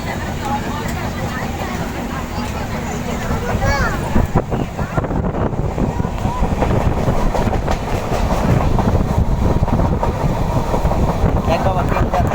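Train passing close by near Digha, a loud continuous rumble with rhythmic clatter and wind buffeting the microphone, while people talk over it.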